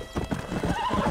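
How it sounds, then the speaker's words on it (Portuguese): Horse hooves clip-clop in a quick trotting rhythm in the video game Red Dead Redemption, fairly close with a short whinny mixed in, heard alone without talk. "deve haver um cavalo mais rápido que este"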